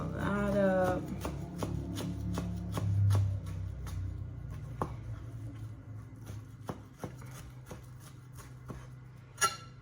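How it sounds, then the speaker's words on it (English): A knife chopping fresh parsley on a board, a steady series of crisp individual taps that grow sparser and spaced out, with a voice briefly heard at the start. "Chop some of that up."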